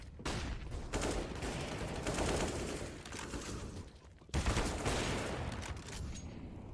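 Gunshots in CS:GO on the Inferno map at CS Summit 7, a steady stream of rapid firing with a brief lull before another loud burst resumes.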